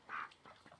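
Pet ducks give a single short, nasal quack followed by a couple of softer, fainter calls, close by and quiet.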